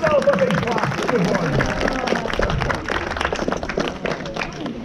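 An audience at a sea lion show at Flamingo Land claps steadily and loudly for several seconds while a presenter keeps talking over the applause.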